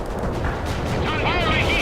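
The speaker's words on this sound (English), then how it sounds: "Heavy armor firing at the enemy." Heavy armor firing in the World in Conflict video game: dense, continuous cannon and gunfire rumble fills the short stretch, loud and steady, with a game voice speaking over the battle din.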